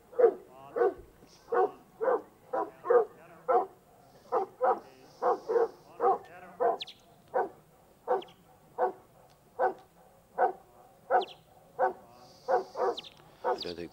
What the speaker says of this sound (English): I don't think the sheep will have any trouble hearing this dog.